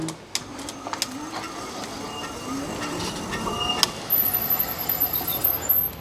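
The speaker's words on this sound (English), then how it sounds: "Brakes on this thing are squeaky." Thin high-pitched squeal from a van's brakes rises over steady vehicle rumble and road noise, coming in near the end.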